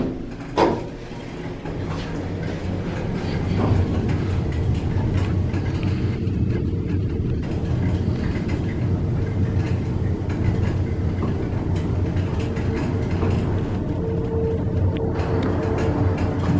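Otis elevator car descending from the 26th floor, heard from inside the cab: a steady, loud low rumble and hum of travel with a brief thump at the start, continuing evenly throughout, no talking.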